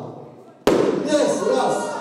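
A starting pistol fires a single sharp crack at a party race, loud and sudden, followed by a burst of crowd noise and voices.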